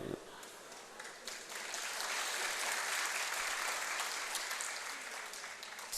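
An audience at a literary talk bursts into sustained applause that builds after the first second and holds steady, dense and moderately distant, with crowd voices mixed in.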